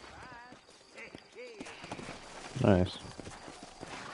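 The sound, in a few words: horses galloping, from the video game Red Dead Redemption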